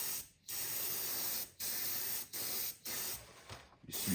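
Airbrush spraying paint onto a model grain wagon during weathering, a steady close hiss in several bursts of about a second each, separated by short pauses.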